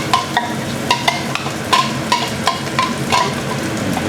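Chopped garlic frying in hot oil in a pan while being stirred, a steady close sizzle broken by regular scraping strokes of a spatula.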